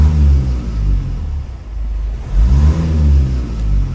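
Mazda Skyactiv diesel engine revved twice from idle, each rise a close, loud swelling growl that climbs and falls back, with a low idle rumble between the revs and no speech.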